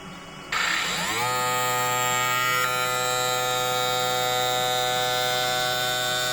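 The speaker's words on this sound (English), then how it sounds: "So push the button. This part is just to show how the wheel goes back and forth." Sparx ES100 skate sharpener running with its grinding wheel moving back and forth, starting abruptly with a rising whine that settles into a loud, steady electric motor hum with sustained tonal buzz and no talking.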